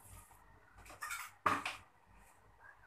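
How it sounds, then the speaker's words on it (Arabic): A metal lid set onto a pot of rice on the stove, giving a couple of quiet clinks and a brighter clatter as it settles, close up and without talk. "دابا نغطيو الرز ديالنا ونخليوه حتى يطيب."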